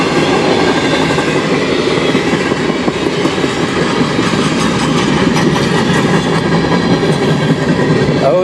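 CN freight train led by locomotives 5727, 2600 and 8914 rolling through Sarnia in a snowstorm, a loud, close, continuous rumble with steady clickety-clack of wheels over rail joints and no talking.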